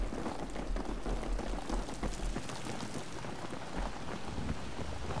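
Rain in the video game Battlefield 3, a steady, dense hiss of falling water that stays even throughout, with a low rumble underneath and no voices.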